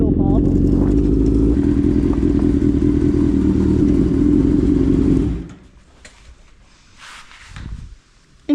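A 1000cc street-bike engine fitted in a Raptor ATV roars loudly and steadily for about five seconds, then cuts off, leaving low rumbling and a few faint pops and thumps.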